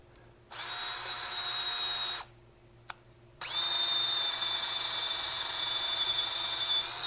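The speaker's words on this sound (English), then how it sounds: "we'll take the brass wire wheel and a drill and see if we can't clean this up a little bit" A power drill whines in two long runs with a short pause between, a close, high steady buzz of a spinning brass wire wheel cleaning a pitted manifold from a 1943 Willys MB jeep.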